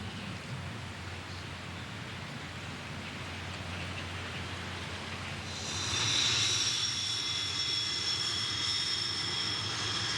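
A Soviet Su-17M4 swing-wing fighter bomber produces a steady jet engine roar that swells louder and brighter partway through, with a high whine joining in and no talking.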